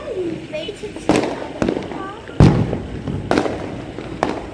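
Diwali night fireworks around a new house, a handful of loud sharp bursts spaced a second or so apart, near and echoing, while people talk in between.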